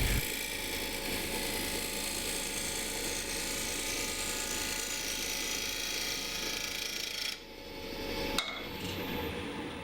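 Steady, loud whirring of a wood lathe with a carbide turning tool making a slow, even cutting pass, continuous for most of the stretch before a brief dip near the end.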